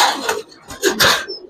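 A Giribaz pigeon, a tumbler breed, coos in a loft with soft, close throaty bursts between short pauses, along with a brief high chirp.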